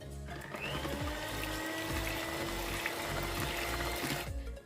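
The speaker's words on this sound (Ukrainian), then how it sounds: "Для початку візьмемо наші яйця, додамо до них трішечки солі і гарненько взіб'ємо міксером." An electric hand mixer whirs steadily as it beats eggs with a little salt in a bowl for a rhubarb cake, a continuous motor drone with liquid churning, starting and stopping abruptly with no talk.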